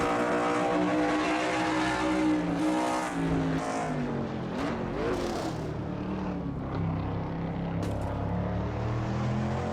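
Several race car engines drone and shift pitch as stock cars take turn 12 at Sonoma in a racing game, heard from a rear-bumper camera, a continuous layered roar without pause.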